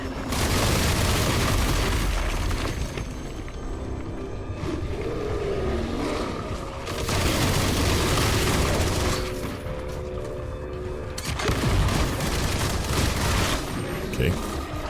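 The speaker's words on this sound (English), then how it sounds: "Multiple projectiles flying at you, so you gotta be careful of those guys." Large enemies in the ARMATUS demo unleash repeated barrages of projectiles, a loud sustained roar of booming, rattling fire that surges in waves, with a voice talking faintly underneath.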